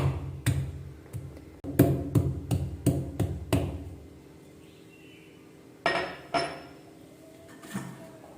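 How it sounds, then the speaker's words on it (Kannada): Ginger being crushed with a pestle for a home kashaya, giving a run of about nine sharp, ringing pounding strikes in steady rhythm, then a quiet pause and a few more scattered knocks, close and loud with no talk. "ಈಗ ಈ ಶುಂಠಿಯನ್ನು ಸ್ವಲ್ಪ ಜಜ್ಕೋಬೇಕು"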